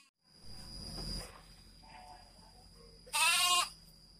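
A sheep bleats once, a short loud call near the end, after soft rustling and faint movement sounds in a quiet livestock pen.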